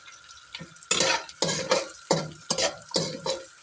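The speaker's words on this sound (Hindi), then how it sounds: "इनको अच्छा सा मिक्स करेंगे, थोड़ा सा इसको करेंगे फ्राई" Vegetables and garlic are stir-fried in oil for chicken Manchurian, with a spatula scraping the pan in a regular rhythm of loud strokes over a constant sizzle, close up and with no talk.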